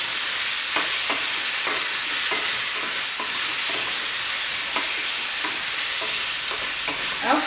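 Potatoes and onions sauté in a pan with a steady, close sizzle, broken by regular scrapes and knocks as the mixture is stirred and turned; no one speaks.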